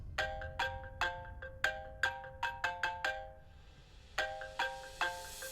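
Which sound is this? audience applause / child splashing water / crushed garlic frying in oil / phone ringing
phone ringing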